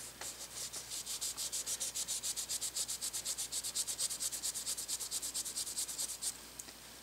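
A cloth rubs back and forth over a metal surface treated with Breakfree CLP gun lubricant in steady, quick rhythmic strokes, close and moderately quiet, with no talking.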